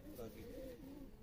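Malwai pigeons kept in a loft in Landhora, Roorkee, give a low, soft rolling coo, faint and continuous, under a man's speech.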